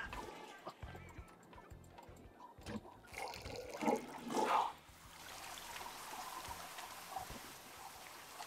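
A Sim using the bathroom and shower in The Sims 2: a toilet flush surges up mid-clip, followed by softer running and trickling water that continues at moderate level.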